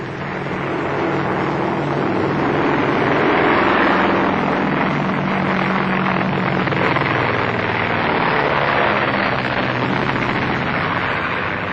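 A vintage airplane engine drones steadily and loudly throughout an old black-and-white era comedy film, a constant rumbling roar with no break.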